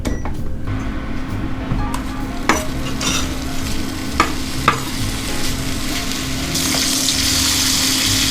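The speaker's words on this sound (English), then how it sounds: "let's get this heated up and crisp up our bacon" Bacon frying and crisping in a skillet for a nettle and morel frittata, a steady close sizzle with a few sharp pops and a hiss that grows louder toward the end, no talking.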